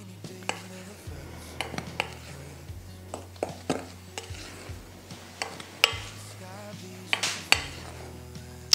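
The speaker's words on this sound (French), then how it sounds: "On remue bien." Cookie dough with baking powder is stirred in a bowl, giving close irregular scrapes and sharp knocks of a utensil against the bowl, with low hum underneath and brief pauses between strokes.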